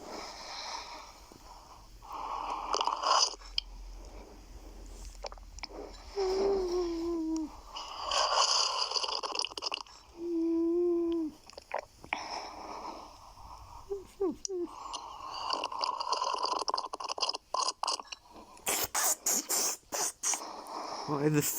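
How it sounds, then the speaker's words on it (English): Someone noisily slurps, sucks and chews tea with wet suctioning gulps, nasal snorts and panting breaths that come in irregular bursts, close and prominent, with short pauses in between. "The panting, the slurping."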